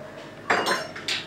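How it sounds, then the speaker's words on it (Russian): A fork beats a few eggs on a plate, making a short burst of quick metallic clinks and scrapes against the dish. "Берем вилочку и перемешиваем"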